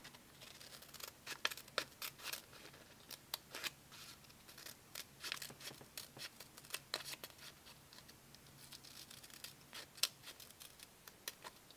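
Scissors snip repeatedly through a diamond painting kit, a series of faint, sharp, irregular cuts with brief pauses between them, close but quiet.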